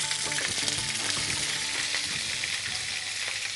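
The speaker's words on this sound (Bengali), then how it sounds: "একটু পেঁয়াজ বাটাটা দিয়ে দিই পুড়ে যাবে" Onion paste frying in a pan on a home-style cooking show, a steady loud sizzle and crackle that runs throughout with faint stirring scrapes.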